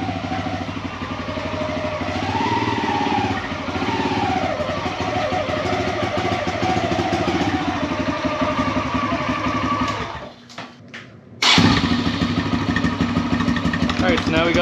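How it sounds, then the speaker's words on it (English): A Kawasaki KLX140RF dirt bike engine runs on a stand in a shop, a loud, close, steady rattling idle that drops out for about a second, then returns just as strong, with someone talking over it. "All right, so now we got the bike running."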